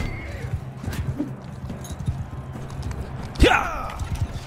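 Horses in the Bannerlord arena during a four-versus-four fight, hooves clip-clopping steadily through the scene with a brief neigh-like sweep midway, over game ambience and faint voices.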